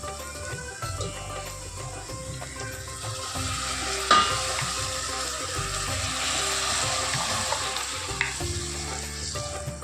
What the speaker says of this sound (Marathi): तांदूळ ऍड केल्यानंतर छान सगळ्या भाज्यांमध्ये किंवा मसाल्यांमध्ये छान परतून घ्यायचा.